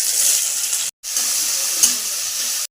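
Cumin, dried chili, bay leaf and onion sizzle steadily in hot oil for a Bengali dish, with the frying cut by one brief silent gap and a small clink of stirring near the end.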